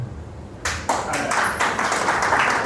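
After a brief quieter moment, an audience breaks into applause that builds into dense, sustained clapping, loud and close, with some voices underneath.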